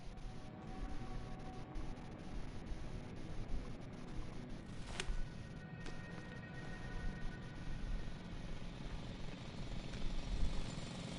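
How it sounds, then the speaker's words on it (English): A loud drill roars in the sci-fi video game The Invincible, a dense, constant grinding drone with a sharp metallic clank midway, heard alone without speech. "It's a drill!"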